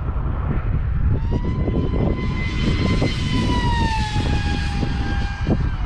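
A radio-controlled flying wing powered by a brushless car motor flies past, its high, steady electric whine sliding gradually lower in pitch as the aircraft passes and moves away, loud and continuous.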